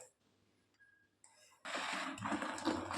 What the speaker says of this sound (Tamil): 1/2 லிட்டர் ஊற்றிருக்கிறேங்க. தண்ணி நிறைய பிடிச்சிட்டேன்.